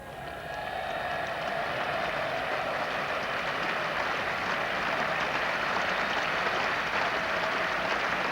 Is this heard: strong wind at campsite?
no